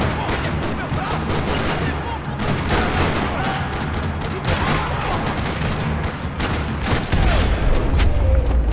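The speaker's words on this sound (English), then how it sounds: "Another parking lot rattling with gunfire." Dense gunfire rattles nonstop through a parking lot in the Max Payne 3 video game, overlapping shots and bursts forming a loud continuous barrage with a heavier boom near the end.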